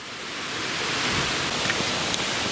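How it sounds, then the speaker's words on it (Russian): A mountain stream in the Western Caucasus forest rushes close by, giving a loud, continuous broadband wash of flowing water with no voices. "А вот, кстати, и ручей."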